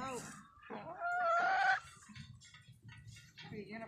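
Chickens cluck while a rooster gives a drawn-out crow in the middle, with people talking around the birds.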